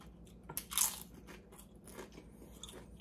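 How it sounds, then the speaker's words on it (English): Close crisp crunches of a corn tortilla being bitten, one sharp bite followed by softer chewing crackles, with no talking. "Itong corn, na tortilla kay crunchy."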